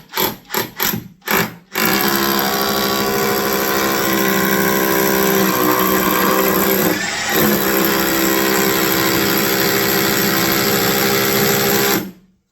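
A power drill buzzes in a few quick short bursts while fitting an oak mantle, then runs steadily with a high motor whine for about ten seconds before stopping.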